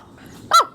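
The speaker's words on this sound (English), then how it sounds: "I don't know what they're barking at." A dog lets out a single sharp, close bark after a moment of near quiet, loud against a faint background.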